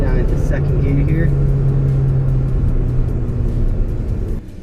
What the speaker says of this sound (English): Do some quick downshifts. Down into second gear here.